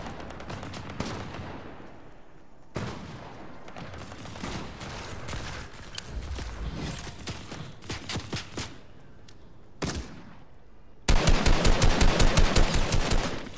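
Gunfire in the Fortnite video game: scattered single shots and short bursts throughout, ending in a loud, rapid automatic volley in the final seconds.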